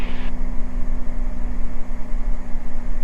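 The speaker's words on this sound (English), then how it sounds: "I'm just going to kind of listen, for the engine." Beechcraft Bonanza light aircraft engine droning steadily in flight, a loud continuous hum heard from inside the cabin with no talk.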